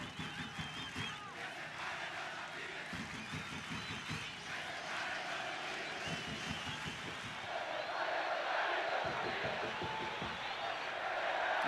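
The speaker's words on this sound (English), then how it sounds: "This crowd trying to get back into it now." A football stadium crowd at a Guatemala vs Panama match roars in a steady, dense wash of cheering and chanting that swells louder toward the end, with a commentator talking over it.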